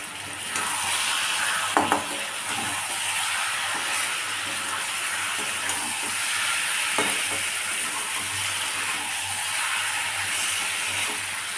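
Mutton slow-frying in a pan with green chillies, a steady sizzling hiss broken by occasional stirring scrapes and pops, close and continuous, with no talk.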